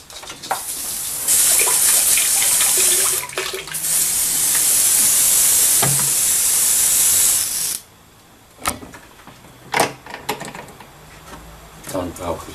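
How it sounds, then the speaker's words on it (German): Water sprays hard through an airbrush gun as it is rinsed out, a loud hissing rush for several seconds that cuts off abruptly, followed by scattered clicks and handling sounds; a voice speaks briefly. "Jetzt spüle ich die Pistole ganz kurz durch."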